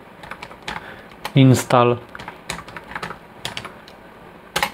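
Rapid keystrokes on a computer keyboard as a Linux install command is entered, a quick close run of clicks with a short spoken word in between.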